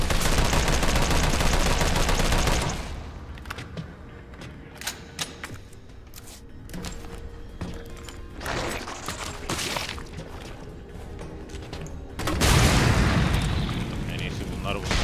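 Gunfire in the video game Resident Evil 3, with dense bursts of shots and booms at the start and again near the end, and scattered impacts in between, mixed with game sound and someone talking at times.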